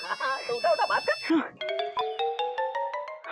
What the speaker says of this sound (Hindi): अबे मयूरी का फोन होगा, उठा फटाफट